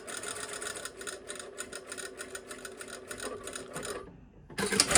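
Sewing machine stitching a single welt pocket at a very small stitch length, a steady rapid mechanical chatter running for about four seconds before stopping abruptly, followed by a brief burst of handling noise.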